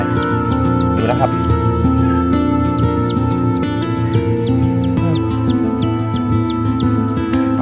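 A red junglefowl hen clucks repeatedly close by while birds chirp steadily in the background; someone speaks briefly near the start.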